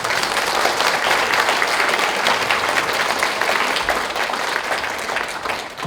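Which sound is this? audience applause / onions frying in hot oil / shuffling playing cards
audience applause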